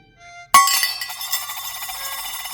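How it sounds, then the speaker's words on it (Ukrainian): An old silver coin drops onto a metal scale pan with one sharp, bright clink, then rings and shimmers as it fades over the next two seconds in an otherwise quiet setting. "Дзенькнув грошик на шальку"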